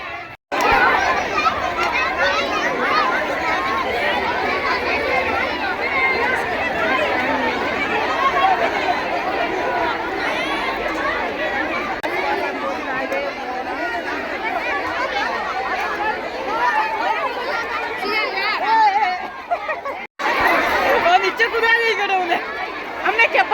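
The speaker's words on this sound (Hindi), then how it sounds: "और उस साइड जो दिख रहा है ना, वो वाले भाग में जेंट्स है, तो फिर जेंट्स की साइड भी इतनी भीड़ है जितनी लेडीज़ में है।" A huge crowd chatters steadily at an Eid Milad un Nabi jalsa in Gujarat, with dense overlapping voices of men and women forming a loud, continuous hubbub; one voice speaks over the din nearby.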